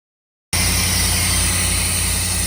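A Camaro engine catching and running after silence, settling into a steady, loud, close idle with a low rhythmic pulse; the cranking itself is not separately evident.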